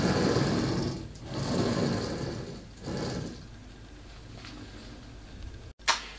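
A homebrew CNC machine built from hand tools and heavily bolted plates runs an axis along its rails, giving several smooth rising and falling motor-and-carriage swells, then a short click at the end.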